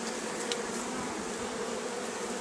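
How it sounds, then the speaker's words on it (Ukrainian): Bees buzz steadily in a dense, even drone at an agitated hive in September, a constant swarm hum with no voices. "Бджоли подуріли."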